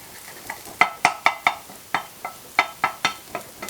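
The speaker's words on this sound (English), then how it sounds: "you kind of have to stir it constantly or it'll burn" Chicken parmesan ingredients stirred in a hot pan, with about a dozen sharp, evenly spaced spatula scrapes and clacks over a faint sizzle, close up and without talk.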